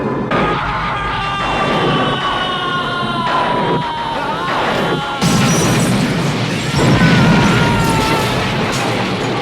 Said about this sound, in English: Very cool explosion.